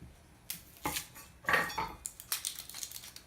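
Knife cutting both ends off an onion on a board, a few sharp close chops and taps with some clattering knocks in a quiet kitchen, no voices.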